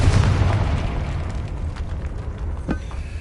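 A Confringo spell in Hogwarts Legacy bursts with a loud, deep explosive boom at the start, rumbling and fading over a few seconds with a later smaller pop inside a tomb.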